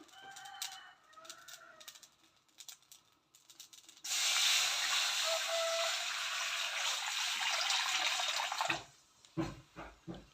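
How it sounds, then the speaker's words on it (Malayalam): Water poured into a pan of cumin seeds roasting until they crackle, giving faint crackling and then a loud, steady hiss that lasts several seconds before cutting off. "നമ്മൾ രണ്ട് ഗ്ലാസ് വെള്ളം എടുത്ത് ഇതിലോട്ട് ഒഴിച്ചു കൊടുക്കണം"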